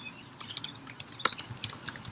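Quick, uneven keystrokes on a computer keyboard as a description is written, close and crisp clicks with short pauses between bursts and no talking.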